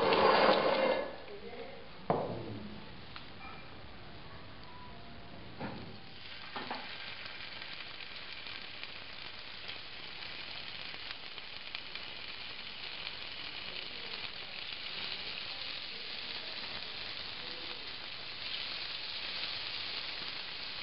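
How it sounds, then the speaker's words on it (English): Meat browning in a pan for a South African zuurvlees stew, a steady sizzle and crackle running throughout, loud at the start then settling into an even frying hiss, with faint background voices. "So let's make a start with frying off the meat."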